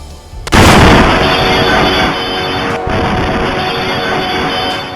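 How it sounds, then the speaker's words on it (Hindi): A large explosion inside the Nowgam police station in Srinagar at night: a sudden loud blast bursts in after a short quiet lead-in, followed by a sustained roaring rumble that stays loud, with a second thud partway through. "जम्मू कश्मीर के श्रीनगर में रात करीब 11:22 पर बड़ा धमाका हुआ।"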